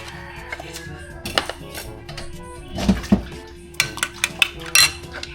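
Eggs and salt are whisked in a bowl, with irregular clinks and taps of a utensil against the dish and soft scraping between them, fairly close and with no talk.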